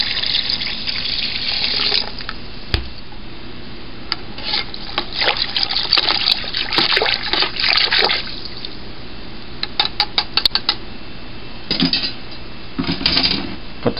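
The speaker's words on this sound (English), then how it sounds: "We're going to dump that in there, followed by a gallon of hot water." Activated yeast and a gallon of hot water are poured into a container for banana brandy moonshine, a loud splashing, gurgling rush with clattering knocks and intermittent bursts as the flow sputters.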